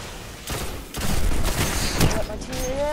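Grenade blasts and gunfire in the video game Destiny, an Iron Banner match, make a dense rumbling barrage of booms and shots with rising and falling game tones mixed in.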